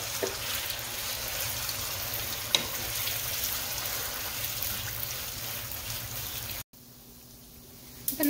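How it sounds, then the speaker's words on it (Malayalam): Marinated chicken pieces deep-frying in hot oil, a steady close hiss and bubbling sizzle that runs unbroken for several seconds, then cuts out abruptly before a faint return. "ഇനി ഇതിലേക്ക് നമുക്ക് നേരത്തെ മാരിനേറ്റ് ചെയ്ത് വെച്ചിരിക്കുന്ന ചിക്കൻ പീസസ് ഇട്ട് കൊടുത്ത്"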